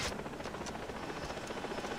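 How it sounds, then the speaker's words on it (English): A helicopter in the video game Far Cry 3, a continuous whirring rotor drone with faint rhythmic chopping, steady and moderately distant amid game noise. "There's the chopper."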